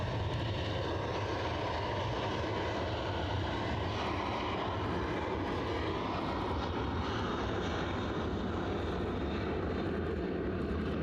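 Ryanair airliner taking off from Edinburgh Airport, a broad, steady engine roar that stays loud and sustained throughout with no voices over it.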